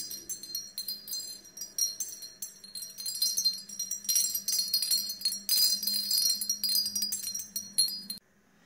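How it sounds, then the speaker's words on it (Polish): Small bells ring in a bright, continuous shimmer of overlapping tinkles, steady and fairly close, fading out abruptly at the end. "Zobaczymy zaraz następne dzwoneczki, które również mają podobną skalę"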